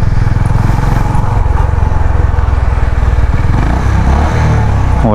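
A Honda CB350 RS motorcycle engine runs with a loud, steady exhaust thrum, close and continuous throughout, with no talking over it.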